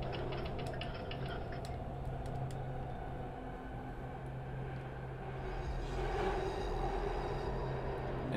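Subway train riding in the horror video game Here They Lie, a continuous low rumble and rolling drone with steady mechanical clatter, building slightly louder toward the end.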